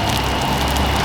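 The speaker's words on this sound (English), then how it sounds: "Oh, it started raining." Rain starting to fall at an outdoor street-food stand near the Guatemala–Belize border, a steady broadband patter of drops on surfaces, close and continuous across the short moment, with no voices.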